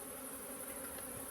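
Honey bees buzz steadily around an opened hive as the cover is removed and honey boxes are lifted, a close continuous hum with no talk.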